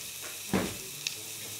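Noodles are stir-fried with tomato sauce in a hot pan: a soft, steady sizzle runs throughout, with one brief louder burst of stirring near the start.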